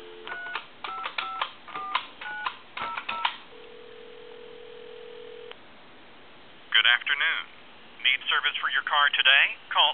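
Mickey Mouse telephone being dialed to a time-and-temperature line: a series of short rhythmic tone bursts from the dial, a steady ringing tone, then a recorded voice speaking over the line, all sounding thin and band-limited.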